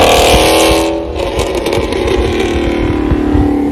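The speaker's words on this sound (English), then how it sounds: "The next thing is my MagnaFlow X-Mod catback exhaust." Dodge Charger fitted with a MagnaFlow X-Mod catback exhaust revving loudly up close, a deep aggressive roar that swells and settles into a rumbling idle with burbling pulses.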